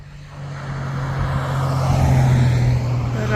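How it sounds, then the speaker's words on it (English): Car driving down a rural East Idaho road, approaching as a low engine hum and tyre noise that swells to a close pass, with no talk. "Here comes a car down the road."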